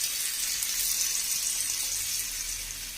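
Water pours onto tamarind in a kitchen while egg karam pulusu is being made, a steady rushing hiss that runs evenly for the whole moment with no voices.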